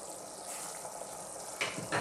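A pot of carrot and ginger soup bubbles gently just after reaching a boil, a soft steady simmering hiss with a couple of brief louder pops near the end.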